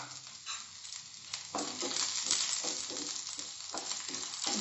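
Chopped garlic frying in a pan for Punjabi dal tadka: an ongoing crackling sizzle with repeated scraping stirs from a spatula, near and moderately quiet, with no speech.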